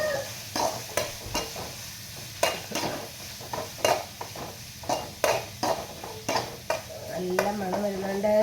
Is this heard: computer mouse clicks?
no